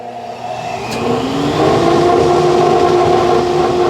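A woodworking shop dust collector motor spins up and settles into a loud, steady whooshing roar, rising over the first second and a half and then holding constant.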